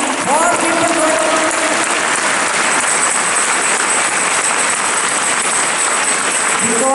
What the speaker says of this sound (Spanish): Clap your hands and praise the Lord.